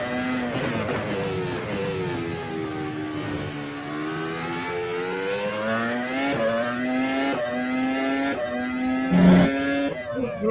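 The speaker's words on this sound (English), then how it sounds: "It must be the DRS sound." Race car in a racing video game with DRS engaged: a steady, close engine whine whose pitch sags and then climbs again over several seconds, with a brief click near the end and no talking.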